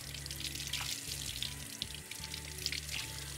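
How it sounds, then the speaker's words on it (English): Kitchen sink tap running as a dish is rinsed of lime juice, a steady close hiss of flowing water with small splashes and drips, no voices. "Just gonna go ahead and rinse all that stuff off."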